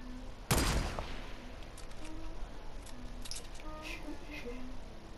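A single sharp, loud gunshot in Fortnite Battle Royale, followed by faint scattered game effects and a low background hum, while players chat quietly.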